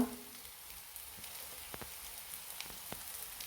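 Capsicum sautéing in a pan for a paneer ghotalo, a steady faint sizzle with a few soft clicks of stirring, close by and without talk.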